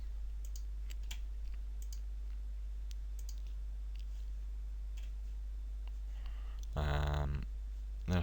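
Mouse clicks in AutoCAD software, a few faint, sharp, isolated clicks spread over a quiet stretch, with a brief louder burst near the end.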